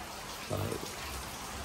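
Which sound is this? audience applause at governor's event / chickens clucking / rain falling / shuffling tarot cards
rain falling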